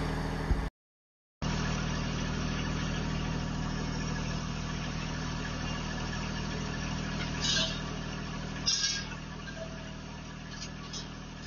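A tractor engine runs while a rack for 100-pound propane cylinders is moved outdoors. It holds a steady, droning idle throughout, with a brief gap near the start and a couple of faint clanks later.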